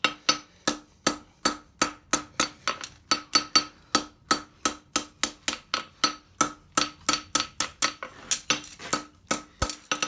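A farrier's hammer strikes a concave front horseshoe on an anvil in a fast, steady run of ringing metallic blows, close and loud, with short pauses between bursts.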